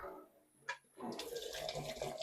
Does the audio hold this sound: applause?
no